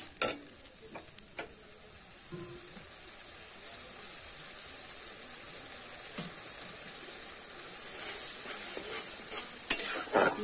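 Ground masala paste frying in a pan, a soft, low sizzle with occasional stirring scrapes, faint at first and growing louder and busier toward the end.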